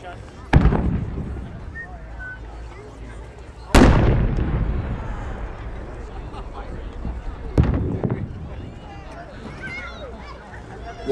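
A 5-inch multi-break firework cylinder fires at an outdoor display, with three loud, distant booming reports spaced a few seconds apart, each trailing a long rumbling echo, while a crowd murmurs and talks in the background.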